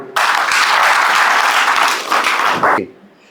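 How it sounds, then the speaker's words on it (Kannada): Loud, dense applause from a seated audience at a ceremony founding a cooks' workers' service trust in Mulbagal taluk, bursting in at once, holding steady for over two seconds, then cutting off sharply. "ಒಂದು ಸಲ ಜೋರ ಚಪ್ಪಾಳೆ ಹೊಡೆಯಿರಿ ನೋಡೋಣ"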